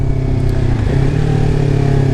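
Beginner-friendly sportbike engine running through an exhaust fitted with a baffle, a loud steady low drone with a slight rise partway through, close to the microphone and with no talk.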